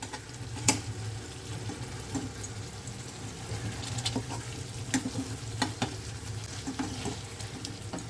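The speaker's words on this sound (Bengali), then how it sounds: "এবারে আমি কড়াইতে কাটব খুন্তি দিয়ে আধখানা করে দিচ্ছি" Potatoes being broken up with a metal spatula in a kadai as they fry with spices for chana dal kofta curry, giving a steady sizzle with scattered scraping and tapping strikes throughout, no talking.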